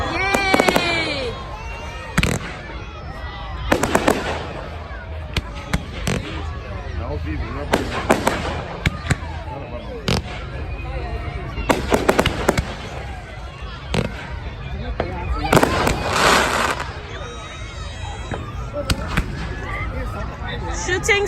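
Bonfire Night fireworks display outdoors: repeated loud bangs and crackling bursts, with whistling rockets and fizzing trails, spread across the whole stretch, while a crowd cheers and people talk nearby.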